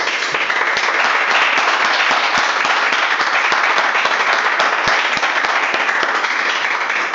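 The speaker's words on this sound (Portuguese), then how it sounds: "Então, palmas para o Senhor Jesus." Church congregation applauding at the close of a sermon, dense continuous clapping from many hands that stays loud and even throughout.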